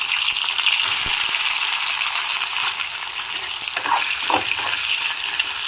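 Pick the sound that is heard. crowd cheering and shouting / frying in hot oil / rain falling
frying in hot oil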